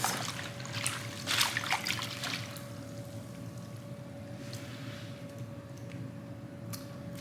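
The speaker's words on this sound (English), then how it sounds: "And this is how you wash greens." Turnip greens sloshed and rinsed in water, a few close splashes and trickles early on, then quieter dribbling with occasional drips against a low steady hum.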